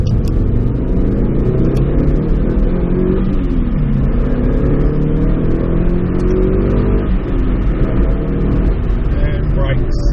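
A 2003 Mitsubishi Lancer Evolution 8 RS accelerating hard on a test drive at a Japanese car auction, engine note climbing steadily in pitch through the gears, loud and close from inside the car.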